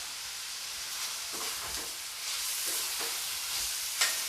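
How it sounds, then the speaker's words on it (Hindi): Onions with a little salt frying in oil make a soft, continuous sizzle, broken by a few brief scraping stirs and a small clink near the end. "प्याज को मैं लगभग आधा मिनट तक भूनूंगी।"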